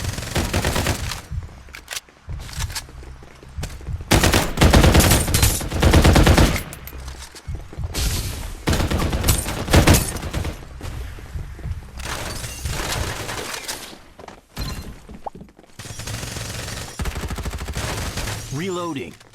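Rapid automatic gunfire bursts from the battle game Farlight 84, loud and dense, firing in repeated volleys over several seconds with game voice lines and effects mixed in.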